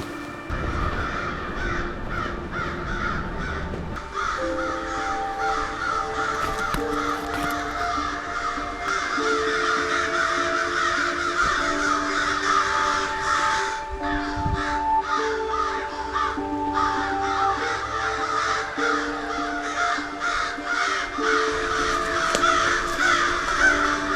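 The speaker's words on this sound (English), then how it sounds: "the crows over there are going crazy" Crows caw over and over in a steady, noisy chorus somewhere in the woods on a hike. Some calls are close and some are farther off. Nobody speaks.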